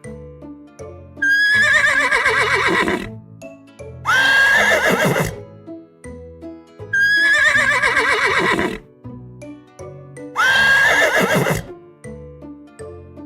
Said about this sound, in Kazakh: Бұл жылқы. Жылқы и-го-го-го-го, и-го-го-го-го дейді.